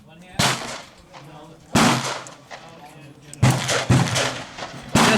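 Smith & Wesson 686-6 revolver firing Federal factory 158-grain .38 Special loads: five or six sharp, loud shots at irregular intervals, each with a short ringing decay, no talk between.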